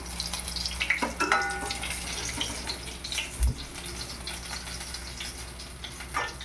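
Chicken burger patties frying in a pan give a steady close sizzle with scattered crackles and a brief thump partway through.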